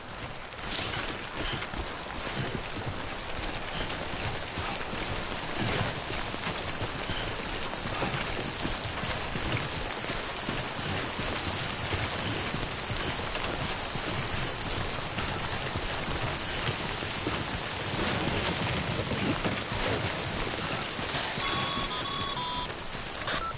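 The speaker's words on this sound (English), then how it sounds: "Timefall damages cargo containers. Don't stay out in the rain any longer than you have to." Steady, dense timefall rain pours without pause in the video game Death Stranding, a loud continuous hiss with faint beeping tones layered in near the end.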